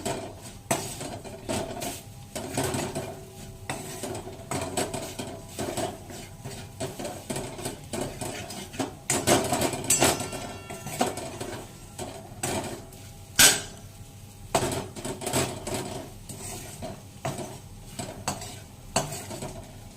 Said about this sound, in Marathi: छानपैकी असं भाजून घ्यायचा मसाला